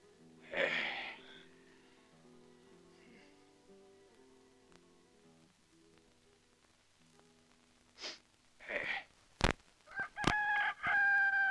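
A rooster crows loudly near the end, its harmonic cock-a-doodle-doo rising clearly over a quiet ranch setting in a spaghetti western, preceded by soft background music and a few scattered thumps and rustles.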